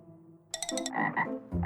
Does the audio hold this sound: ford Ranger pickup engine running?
no